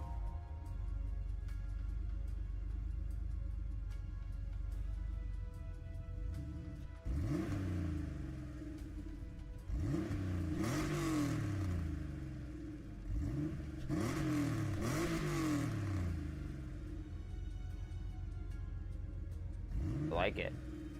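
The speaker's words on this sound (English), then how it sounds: "I want to hear what the bus sounds like." A bus engine revs in a racing video game, several rising and falling throttle blips spread across the clip over a steady idle, loud and close, with speech in places.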